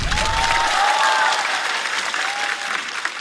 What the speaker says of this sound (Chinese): 谢谢你们给我掌声